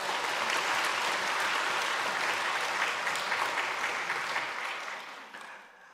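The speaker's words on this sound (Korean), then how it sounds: "박수 한번 쳐주세요." A church congregation applauds during a Sunday worship service, a dense, steady wash of clapping that fills the room and then tapers off near the end.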